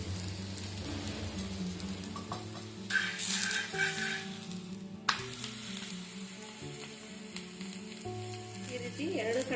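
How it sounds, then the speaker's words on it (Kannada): Taali pattu, a traditional Karnataka breakfast flatbread, frying in oil on a pan, giving a steady close sizzle with a louder hissing burst midway and faint scraping, no talking. "ಈ ರೀತಿ ಎಣ್ಣೆನ ಹಾಕಿ ಬೇಯಿಸ್ಕೋಬೇಕು"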